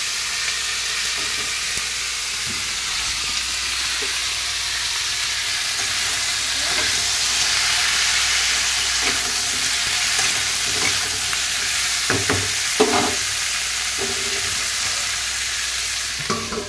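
Pumpkin curry (kumro botboti) sizzles steadily in a pan, a dense continuous frying hiss with occasional soft stirring clinks and pops, close by with no talk.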